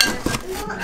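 Glass plates clink against each other while a new microwave is unpacked: a brief, close, sharp clatter with a small knock, amid faint background voices.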